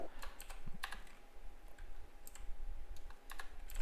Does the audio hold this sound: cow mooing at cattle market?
no